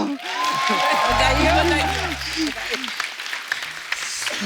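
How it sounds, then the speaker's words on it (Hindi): A studio audience on the Kapil Sharma Show bursts into applause, a dense wash of clapping that runs throughout while voices talk loudly over it. "जोरदार ताली"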